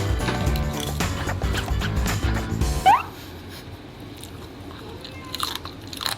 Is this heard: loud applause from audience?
no